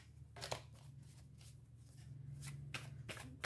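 Tarot cards being shuffled and drawn by hand, with a run of quick papery riffles and slides coming in short bursts over a low steady hum, fairly close and moderately quiet.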